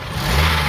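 A car engine revs as the gas pedal is pressed and released during an oxygen sensor test, a steady close mid-to-low roar swelling slightly over a brief moment with no voices.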